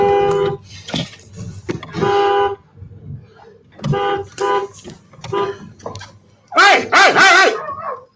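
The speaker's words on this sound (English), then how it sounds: "This fucking dog's sick." A dog barks in short, loud bursts at close range, interleaved with agitated human shouting, ending in a more drawn-out, whining bark.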